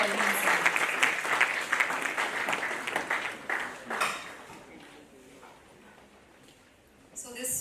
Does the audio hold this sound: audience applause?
yes